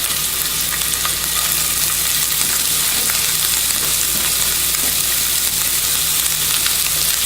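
Carrots, ham and green onions frying in sesame seed oil, making a loud, continuous hissing sizzle with no letup.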